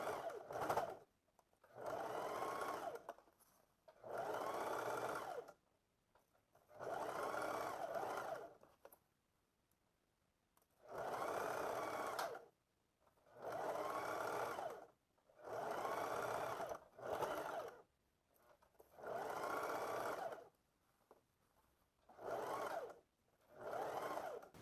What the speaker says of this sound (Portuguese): vou continuar costurando